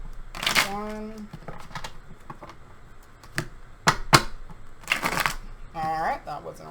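Cards are shuffled in quick riffling bursts with sharp snaps, separated by pauses, close by, with brief voiced sounds mixed in.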